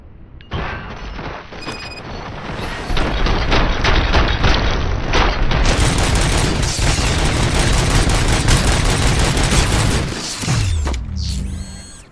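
Sustained gunfire from Robocop: Rogue City, loud and dense, with rapid automatic bursts and heavy impacts mixed with mechanical clatter running for about ten seconds before cutting off, followed by a brief whoosh.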